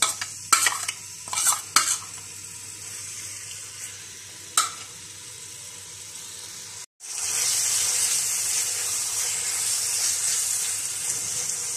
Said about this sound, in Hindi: मैरिनेट की हुई चिकन डाल के फ्राई कर लेंगे।